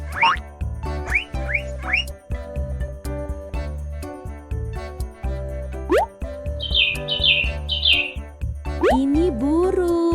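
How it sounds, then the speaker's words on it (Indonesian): A guinea pig lets out quick rising squeaks in short runs, near and clear, with more high chirps later, over a soft musical background. "Guinea pig suka sekali mengeluarkan suara wik-wik."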